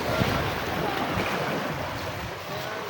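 A twin-engine motorboat runs over the waves, heard as a dense steady roar of engine, rushing water and wind buffeting the microphone.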